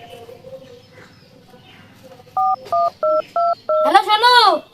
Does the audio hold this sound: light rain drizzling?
no